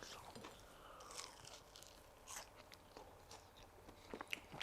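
Crunchy bites into a fried Korean potato snack with a cheese filling: a few sharp, close crunches spread over several seconds, separated by quieter chewing.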